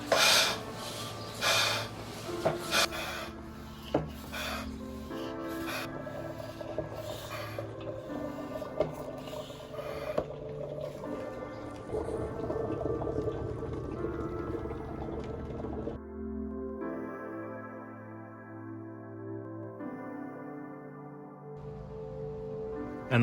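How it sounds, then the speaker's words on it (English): A manual oil extractor pump draws engine oil from a Mercedes SL R129, giving a steady gurgling, slurping flow with some wheezy sucking, close and fairly quiet, thinning out and turning more sputtery toward the end. "now I'm just going to give about 6-7 pumps to my oil extractor pump, and all the oil should start flowing out"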